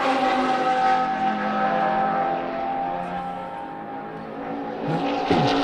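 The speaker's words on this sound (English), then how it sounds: "Just gone past is the Anthony Lee's Paul Kelly Porsche." A race car at a South Island endurance race, a Porsche among the field, passes with a loud engine drone that swells and fades, and a second car rises at the end.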